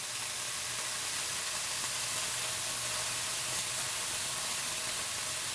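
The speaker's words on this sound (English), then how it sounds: "Love the sound. That's the sizzling." Food sizzles and crackles in hot oil with a constant, loud hiss that stays even throughout.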